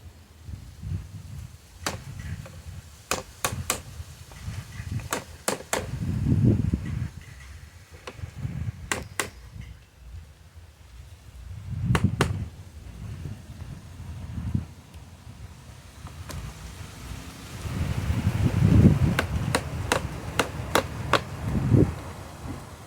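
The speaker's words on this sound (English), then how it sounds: "To give it a tap all the way around, all the joints, an extra tap, just to make sure everything is in snug" Wooden shelving joints for seed trays are tapped snug with a mallet: sharp, scattered knocks in irregular clusters, fairly near and moderately loud, with low rustling and handling noise between them and no talk.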